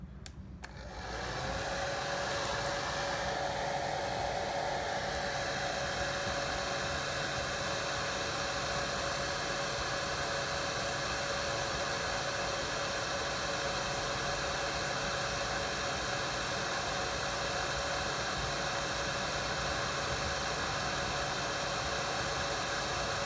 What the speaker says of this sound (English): Use a hairdryer to make removing the adhesive a little bit easier.